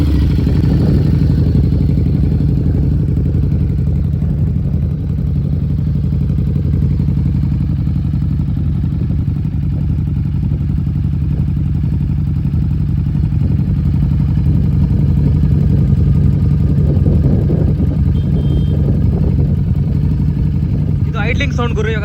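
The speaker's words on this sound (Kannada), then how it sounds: "ಇದು ಐಡ್ಲಿಂಗ್ ಸೌಂಡ್ ಗುರು." A Harley-Davidson Street 750 with a Vance and Hines exhaust idles with a steady, deep, low rumble held close throughout, with no breaks.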